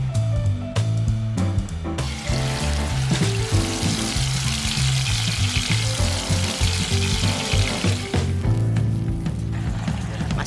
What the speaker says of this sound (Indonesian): Tumis semua bumbu dengan minyak goreng secukupnya.